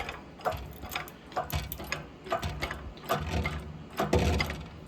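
A press pushes a rear wheel bearing into a Toyota Tundra with rhythmic creaking and clicking, repeated ratchet-like strokes and low thumps at a steady pace, fairly quiet and close.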